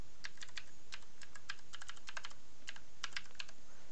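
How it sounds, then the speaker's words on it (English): Quick bursts of clicky keystrokes on a computer keyboard, typed in short irregular runs with brief pauses, close and fairly quiet. "what we're going to do is type in this cheat code"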